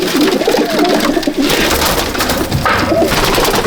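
Adult Dowbaz pigeons coo steadily in a loft in Malda district, a dense, continuous chorus of overlapping low coos close by, with no speech.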